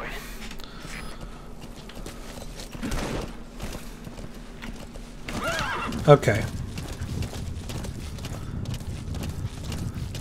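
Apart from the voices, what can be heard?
horse neighing and galloping in video game Metal Gear Solid V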